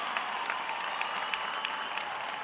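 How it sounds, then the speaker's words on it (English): Graduates and guests at a commencement ceremony applaud first-generation graduates, a distant, fairly quiet wash of clapping with faint individual claps. "Give them a big round of applause."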